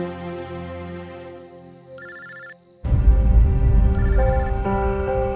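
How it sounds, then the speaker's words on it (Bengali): A phone ringtone chimes inside a house, heard from outside the gate, as a tonal melody that repeats in short bursts before a loud, dense wash of sound swells beneath it. "ভেতর থেকেই তো রিং শোনা যাচ্ছে"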